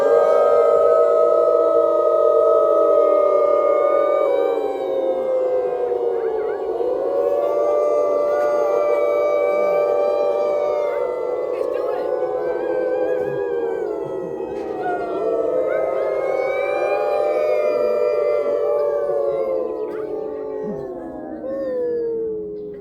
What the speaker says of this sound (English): You guys want to try another howl?